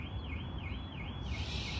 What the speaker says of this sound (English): An alarm is going on now.